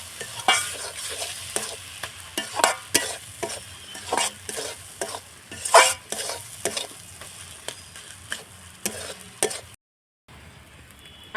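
Greens being stirred with a rice flour paste in a pan for a shol fish head and bitter greens ghonto, a steady run of scraping, sizzling stir strokes close by that stops abruptly near the end. No one speaks.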